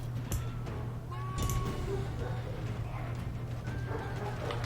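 Horses of mounted archers in a battle video game, several whinnies and neighs rising over a steady low hum and trotting hoof clatter, moderately loud and close.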